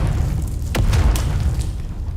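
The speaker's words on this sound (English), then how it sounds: "My grenade blows up faster" A grenade going off in the video game Dune Awakening, one deep boom followed by a low rumbling tail, close and fairly loud over a steady low background drone.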